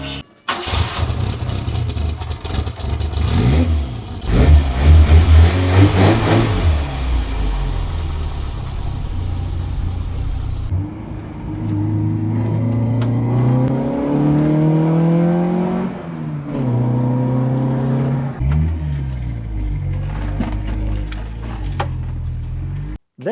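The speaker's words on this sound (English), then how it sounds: "The exhaust is rattling because I forgot to fit it proper, but it sounds nice." A car engine with a loosely fitted, rattling exhaust cranks and catches, then roars through several loud revs before dropping to a rumbling idle broken by repeated throttle blips, all close up with no talking.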